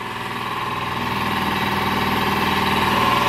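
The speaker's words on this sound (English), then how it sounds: "compressor right over there is super super loud" An air compressor running loudly in a garage, a steady droning motor hum with a fast pulsing throb that builds slightly in level, close and unbroken with no talking.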